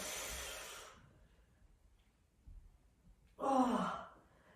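Forceful out-breath during foam rolling work near the armpit, a breathy whoosh at the start, then a second, louder exhale with a faint voiced sigh after a quiet pause.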